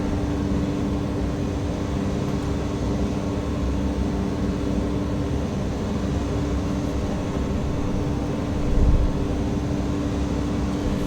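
A Cessna 208 turboprop drones steadily in flight on a left downwind leg near Bella Coola, a constant low engine hum and rumble heard from inside the cabin, unbroken for eleven seconds with a brief bump near the end.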